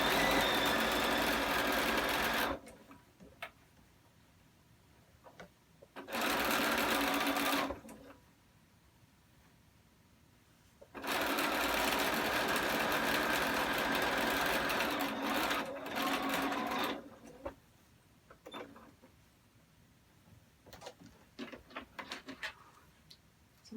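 A loud sewing machine stitches fabric N95 masks in three sustained runs of fast, even whirring, separated by quieter pauses filled with small clicks and handling sounds.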